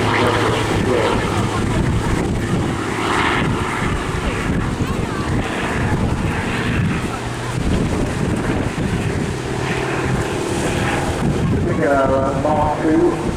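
Hawker Fury piston-engined fighter displaying at the Eastbourne Airshow 2023, its engine droning through heavy microphone wind buffeting, with a commentator talking over it.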